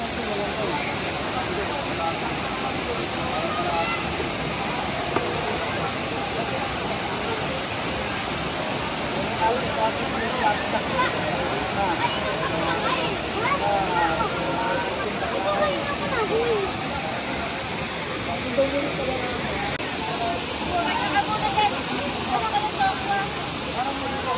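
Aliw Falls in Luisiana, Laguna roars in a constant, dense rush of falling water that fills the whole stretch without pause.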